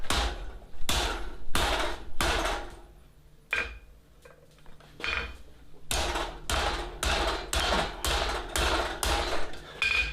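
Hammer blows on steel sucker rod stock being beveled into bent knee tongs, a steady run of sharp, loud metallic strikes in quick rhythm, with a brief pause midway before the hammering resumes.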